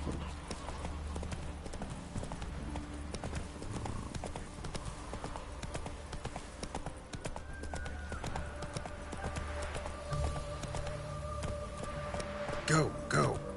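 A horse's hooves clop in a steady rhythmic gait while it is ridden in The Witcher 3, with a tonal game hum and voices talking over it, ending in a brief burst of louder clatter.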